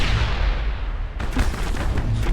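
Grenade explosions in the Mass Effect video game, a dense run of loud booming blasts that keeps going, with the barrage getting heavier after about a second.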